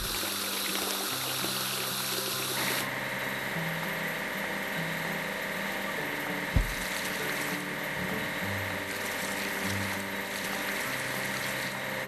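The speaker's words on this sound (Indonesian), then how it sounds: "Ayo cuci gerbong terbuka." A steady hiss of water spraying runs while an open train wagon is washed in a video game, over a low mechanical drone, with a brief thump midway and the spray tone shifting a few times.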